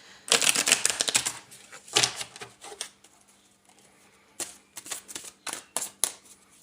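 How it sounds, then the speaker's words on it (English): A deck of animal spirit oracle cards is shuffled close by, bursts of crisp riffling and flicking with brief quieter gaps between. "So I will pull a couple of animal spirit oracle cards here as well."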